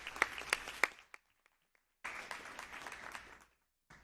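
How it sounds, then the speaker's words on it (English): Scattered claps from a small group at a school board meeting, a few sharp hand claps and then a thinner patter of applause after a short gap, fairly faint in a quiet room. "Round of applause for Jake"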